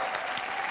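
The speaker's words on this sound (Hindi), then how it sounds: "जोरदार तालियां।" A television studio audience on a Colors TV entertainment show applauds, a brief burst of dense, steady clapping at moderate distance.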